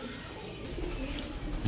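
Old-breed Giribaj pigeons on a farm give soft, low cooing, faint and close, amid a dull background hum.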